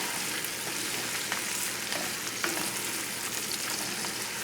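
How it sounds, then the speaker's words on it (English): Radishes sauté in a pan over a fairly high flame, giving a steady, dense sizzle with faint clicks and pops throughout, close and continuous with no talking. "as this sautés on a fairly high flame, this will take a few minutes"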